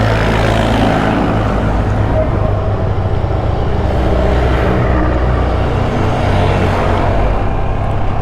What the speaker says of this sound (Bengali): আমি এখন ইঞ্জিন ব্রেকে গাড়িটা নামাচ্ছি